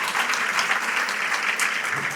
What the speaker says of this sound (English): please, a round of applause to all of them and to all of you for coming out